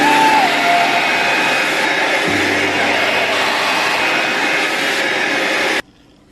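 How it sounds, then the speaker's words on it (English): A hair dryer blows loudly and steadily close by while hair roots are dried, its whooshing roar shifting slightly in pitch before cutting off abruptly near the end. "Now just blow dry the roots like normal."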